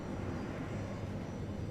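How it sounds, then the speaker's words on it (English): A mech's jet engine roars in a steady, dense booming rush while boosting in the video game Mecha Knights Nightmare, loud and continuous with no pauses. "the jet engine booming when you're boosting around"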